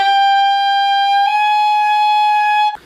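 A saxophone sustains a clear, loud high E, then steps up to a high F fingered with the palm keys. The note holds steady before being cut off abruptly.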